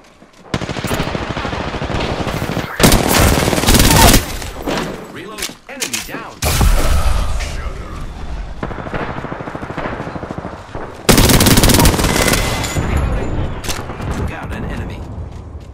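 Gunfire in the Apex Legends video game: loud bursts of rapid automatic fire and heavier booming shots come in several clusters with brief pauses between them, with game sound effects throughout.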